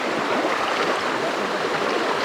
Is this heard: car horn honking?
no